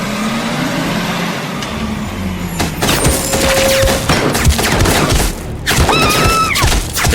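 Video game gunfire: after a rumbling lead-in, a loud, dense fusillade of rapid shots and thuds breaks out and keeps going, with brief lulls between bursts.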